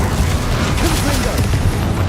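Blasting spell explosions crack and boom in a Hogwarts Legacy fight, a steady loud barrage of low rumbling impacts mixed with sharper bursts, close and dense, with a voice calling out over the spellcasting.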